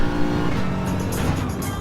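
A Lexus race car runs through the infield on a track, its engine roaring loud and steady up close with a continuous drone and a brief tire scrub.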